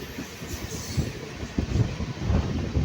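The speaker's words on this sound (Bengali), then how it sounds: "আমাদের ট্রেন এখন ঢুকলো লোহাপুর।" A MEMU train pulling into Lohapur halt rumbles and clatters along the tracks, low uneven thumps of wheels under a steady rolling hum, heard from close by.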